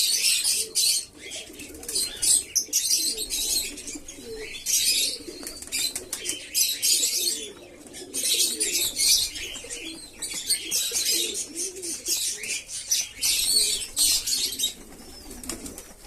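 Pigeons coo in low, rolling runs throughout a morning feeding, with busy chirps and bursts of wing flapping layered over them, fairly close and steady for the whole stretch.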